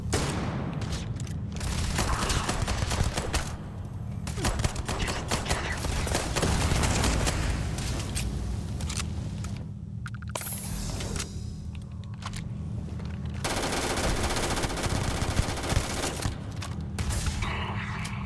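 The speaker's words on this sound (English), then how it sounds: "I expected more from the shotgun." Shotgun fire in the space game Starfield comes as heavy booms and bursts over a dense, loud mix of game effects and background drone, without speech.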